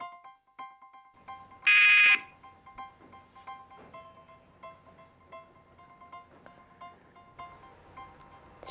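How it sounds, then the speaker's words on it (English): A short, loud, harsh buzz sounds once early on, standing out against faint background tones and quiet shuffling. "We'll start at the sound of the buzzer."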